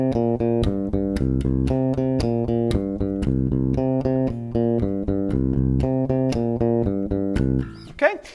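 A common blues-style riff in C played on bass guitar, steady repeating low notes with a clear rhythmic pulse, close and loud throughout, ending with a brief string noise.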